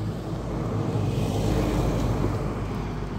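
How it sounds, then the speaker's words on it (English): A car approaches along a street during an evening walk, a steady low rumble of engine and tire noise that swells slightly as it draws nearer, with no voices. "There's a car coming."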